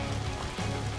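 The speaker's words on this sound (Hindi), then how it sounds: "कितनी बारिश हो रही है" Steady rain pours in an anime scene, a dense continuous hiss with a low rumble underneath, holding at an even level for the whole second with no voices over it.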